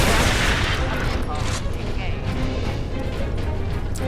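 Bolter gunfire against turrets in Warhammer 40,000: Space Marine, a dense loud burst of rapid shots and crashing impacts throughout, with a voice talking over the gunfire.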